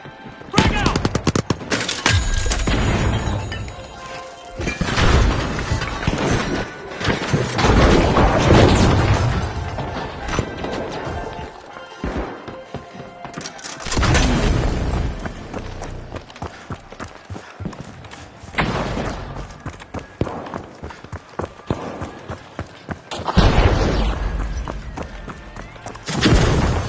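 Frag grenade explosions and gunfire erupt in the video game The Finals, several loud booming blasts separated by brief lulls, mixed with rattling shots and clattering debris across the whole stretch.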